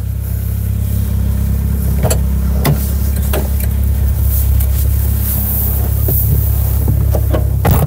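A 35-year-old Honda Prelude pulls away with a steady low engine hum from inside the cabin, with scattered clicks and light knocks from the car over the drive.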